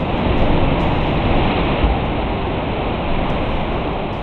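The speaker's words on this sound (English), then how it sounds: "One sea cave is known for its strange echoes, where crashing waves create haunting sounds." Loud, continuous roaring wash of waves crashing inside a sea cave, a dense steady rush that stays close and even throughout.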